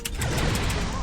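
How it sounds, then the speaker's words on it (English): Hellbore cannon shots striking a starship in the space combat game Starfleet Command II, a loud, dense barrage of overlapping blasts and crashes that never lets up through the whole burst. "3 hits with the Hellbore cannons, followed up by a phaser barrage"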